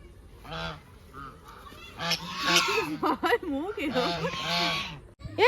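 Ducks give a run of loud, nasal, honking calls close by, repeated in quick bursts with short gaps between them outdoors.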